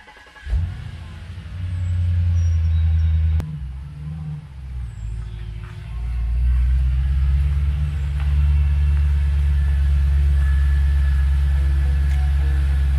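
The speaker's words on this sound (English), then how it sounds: "But I need to move the Audi because I moved it to get the Camaro out." An Audi car idles and is driven a short distance inside a shop, a loud low engine rumble with a brief rise and a few revs, steady and close.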